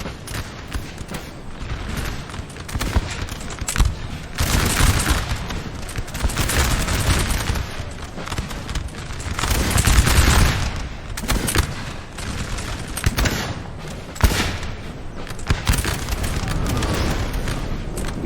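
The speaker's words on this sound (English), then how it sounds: "We do have artillery still firing" Napoleon Total War battle din, dense artillery booms and crackling musket volleys rolling continuously, with louder cannon blasts punching through a steady roar of gunfire.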